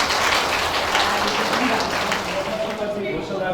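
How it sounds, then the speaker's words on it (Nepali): Wedding guests clap together in a dense, continuous patter that holds for a few seconds beneath a speaking voice, then thins slightly toward the end. "ताली बजाइदिनुहोस् न।"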